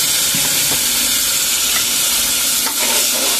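Tomato paste sizzling and frying in hot oil in a pan for a potato kurma, a steady loud hiss with faint stirring scrapes and no voices.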